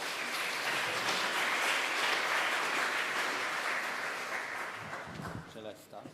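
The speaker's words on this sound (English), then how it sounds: "So a big applause to Leo Westphal and Marian Rasko for being here with us today." Audience at an energy infrastructure forum applauds with sustained clapping that thins and fades toward the end, where a few words of speech emerge.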